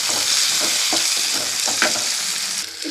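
Tomato frying in oil with onion and curry leaves, a steady loud sizzle with soft stirring scrapes, close and continuous with no talk.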